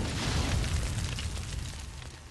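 A missile explodes in the Metroid Other M video game, a dense rumbling boom with a broad crackling roar that fades slowly over a couple of seconds, loud and close, with no talking.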